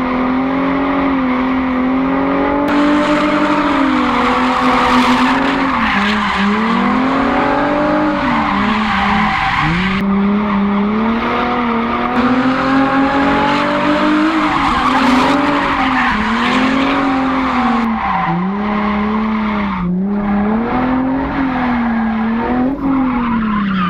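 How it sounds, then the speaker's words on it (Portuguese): A drift car slides through a wide curve with a long, loud tire squeal, its engine revving and wavering in pitch as the skid sweeps on continuously, close and dominant. "vou fazer um balão, que é uma curva mais aberta"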